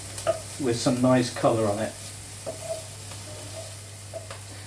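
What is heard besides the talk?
bacon frying in a pan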